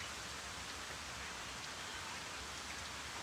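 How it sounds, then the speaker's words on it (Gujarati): Heavy rain pours steadily onto a farm field, a dense, even hiss of countless drops with no pauses and no voices. "તો ફેમિલી અત્યારે જો વરસાદ રમસગડી શરૂ થઈ ગયો છે, જો ધીમે ધીમે ધીમે કે વધતો જાય છે।"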